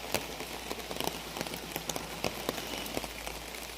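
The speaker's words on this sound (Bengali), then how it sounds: "দেখছি বৃষ্টি, মানে তার মধ্যে বৃষ্টি এসে গেছে" Steady rain falls outdoors, with dense patter and scattered sharper drops hitting nearby surfaces. The sound is soft and even throughout, with no voices.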